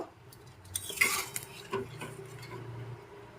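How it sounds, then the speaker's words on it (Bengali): A spoon stirs strained mustard paste into a simmering sweet and sour fish stew in a pan, making soft, quiet clinks and scrapes against the metal with a few sharper taps. "এবার একটু নেড়ে চেড়ে মিশিয়ে নেব"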